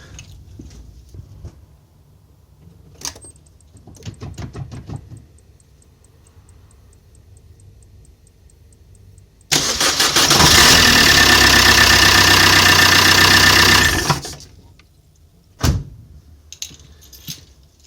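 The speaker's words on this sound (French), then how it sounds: "Voilà, démarrage effectué" Keys jingle on an Opel Corsa 1.3 CDTI diesel after glow plug work, then a loud burst of about four seconds from the engine cranking and starting before it falls quiet again.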